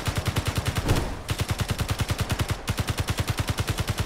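Sustained rapid automatic gunfire in a video game, fired at an enemy gun: loud, close, evenly spaced shots in a long continuous stream with one brief pause.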